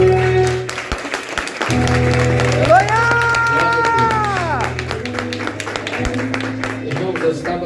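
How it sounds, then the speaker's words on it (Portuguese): Pentecostal church congregation applauding during a service, steady mass clapping with sustained sung or spoken tones and a wavering voice running underneath throughout. "desocupe as suas mãos e aplaude ao Senhor"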